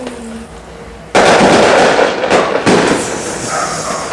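A New Year's Eve 2010 firework rocket bursts overhead, the sudden loud crackling blast breaking a quieter background, followed by a second sharp burst and fading crackle.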